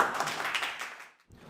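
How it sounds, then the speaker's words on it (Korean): A burst of audience applause, dense clapping that fades out and stops, followed by a moment of quiet. "큰 박수로 맞이해 주시기 바랍니다"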